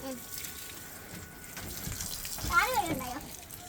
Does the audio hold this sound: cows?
no